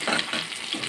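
Chicken pieces frying in a pan for Assamese-style chili chicken, a steady close sizzle with bursts of stirring and scraping, with faint speech underneath.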